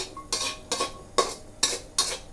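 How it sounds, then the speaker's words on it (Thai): Shallots and garlic being stir-fried in a pan for a pork chili paste, with five evenly spaced scraping, stirring strokes of a utensil against the pan over a faint background and no talking. "คั่วให้มันสุกนะคะสุก หอมกระเทียมนี่แหละทำให้น้ำพริกผูคุณตักจะอร่อยนะคะ"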